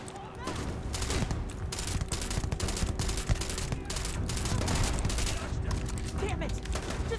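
Heavy gunfire fills a firefight in the space game Starfield, with many weapons firing steadily and dense sharp shots overlapping at a constant level throughout.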